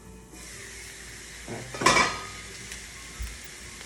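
Sausage browning in a hot skillet is broken up with a utensil, a steady sizzle under a few scraping, clattering strokes against the pan, loudest near the middle.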